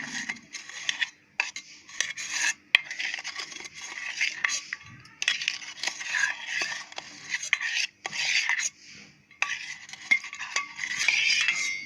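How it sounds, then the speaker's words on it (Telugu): Maida flour batter being stirred in a bowl for junnu, a steady scraping and swishing of a spoon against the bowl in repeated bursts with brief pauses, close and fairly quiet. "మైదా పిండి ఉండలు లేకుండా ఉండేలా బాగా మిక్స్ చేయాలి."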